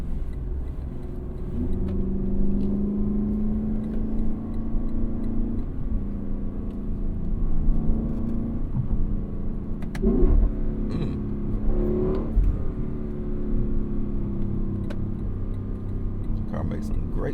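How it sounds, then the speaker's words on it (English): A Lexus LC 500 convertible's engine idles with a deep rumble and then revs up sharply in a couple of bursts, with voices audible around it. "Car makes some great sounds."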